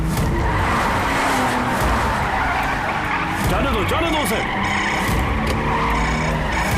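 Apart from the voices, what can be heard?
car tires skidding during a movie car chase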